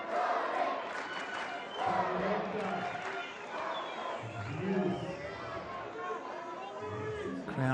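Tennis crowd at the 2017 Marrakech final between Ćorić and Kohlschreiber, a steady babble of voices with rising shouts and cheers of support, dense and continuous throughout.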